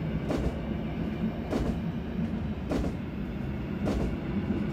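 A modernized EN57 electric train accelerates in the MaSzyna train simulator video game, its steady low rumble broken by evenly spaced rail clacks about once per second, loud and continuous with no speech.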